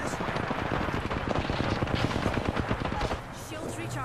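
Rapid automatic gunfire in Apex Legends rattles in dense, continuous bursts during a competitive match, loud and busy, with a brief lull near the end.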